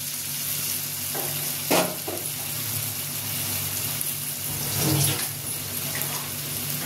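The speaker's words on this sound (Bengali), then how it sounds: "চিকেন চাপ বলে আমি কড়াইটা বড় নিয়েছি, তাহলে ভালো ভাজা হবে।" Chicken chaap pieces fry in a large wok, giving a steady close sizzle throughout, with a couple of brief louder bursts of spattering or stirring.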